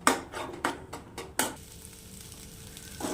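Egg burji sizzles and fries in a pan while a spatula stirs it. Several quick scraping strokes come close together at first, then the steady frying hiss carries on alone.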